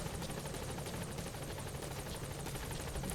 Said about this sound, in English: Yeah, there's the helicopter. There's our Blackhawk.